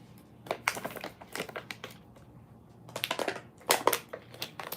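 Tarot cards being shuffled by hand up close, in several short bursts of crisp riffling and rustling separated by brief pauses.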